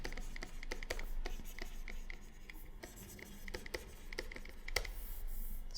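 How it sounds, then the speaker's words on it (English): A pen writes on paper up close, a run of quick scratchy strokes with short pauses between them, steady and fairly quiet. "I'm just going to write things down"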